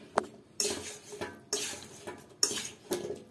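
Potato wedges tossed with spices and oil, a utensil scraping and clinking against the bowl in three distinct bursts, close and fairly quiet, with no voices.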